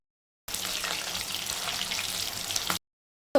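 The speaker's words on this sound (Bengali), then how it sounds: "লোটে মাছের চপ কিন্তু ভাজা হয়ে যাচ্ছে" Lote fish (Bombay duck) chops and pakoras deep frying in oil give a steady, close sizzling hiss for about two seconds, then cut off abruptly, with a brief sound right at the end.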